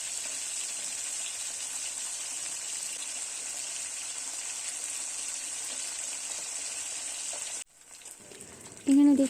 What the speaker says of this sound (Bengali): মাছগুলো ফ্রাই করে নেব একটা একটা করে